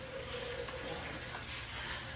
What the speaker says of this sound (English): we're going to just put like 4 times as much water as